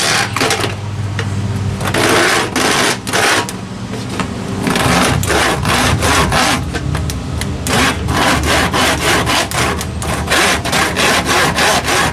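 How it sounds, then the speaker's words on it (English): A hand saw rasps through a 2-inch wood piece for a planter in steady back-and-forth strokes, close and loud, continuing for several seconds with brief pauses between runs. "using my grandma's saw, I'm going to cut these 2 inches"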